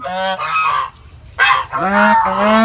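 White domestic geese by a garden pond honk loudly and close in repeated harsh, nasal calls, several bursts overlapping with a short pause midway.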